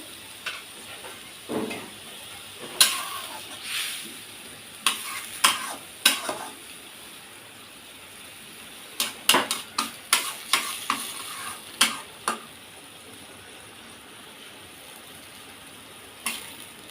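A little water goes into a pan of spiced fish chorchori made with shredded big-fish pieces, leaving a soft simmering hiss marked by scattered, sharp scraping clicks of stirring, close and fairly quiet, with no voices.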